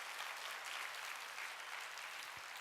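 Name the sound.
congregation clapping in church service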